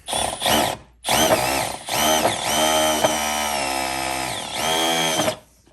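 A Milwaukee M12 hammer drill drills in short bursts: two brief stabs, then longer loud sustained runs with the pitch sagging under load, close and harsh before stopping.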